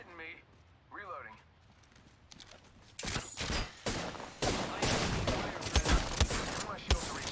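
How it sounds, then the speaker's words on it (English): Rapid bursts of video game gunfire start abruptly about three seconds in and continue in loud, dense volleys. Talk is heard faintly at the start, before the shooting begins. "Shots fired, and they're hitting me"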